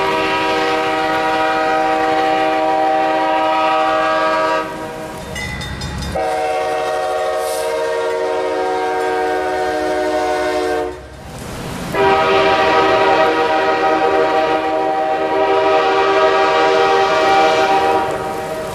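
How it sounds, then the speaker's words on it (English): A British Columbia Railway locomotive sounds its Nathan K5H horn, a 1954 Canadian design, in three long loud chords with short breaks between them, close by and dominant over faint rail rumble. "is a British Columbia Railway Nathan K5H,"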